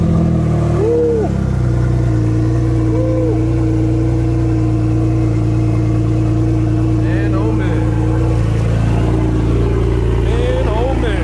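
A loud, deep 1200 hp Porsche 911 Turbo S engine starts, idles and rumbles steadily, with a few rises in revs, close up; a person's voice is faintly present underneath.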